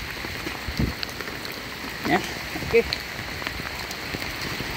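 Heavy rain falls steadily on a surface outdoors during a typhoon, a continuous hiss with occasional louder drips and splashes, while a person briefly speaks over it.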